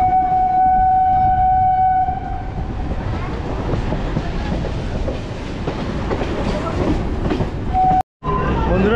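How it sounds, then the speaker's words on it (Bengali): Majerhat–Barasat local train running into Dum Dum Junction, Kolkata: a steady close rattle and rumble of the carriages with a horn tone at the start, continuous clatter throughout, ending in a brief dropout. "বন্ধুরা ট্রেন এখন এসে ঢুকছে দমদম জংশনে"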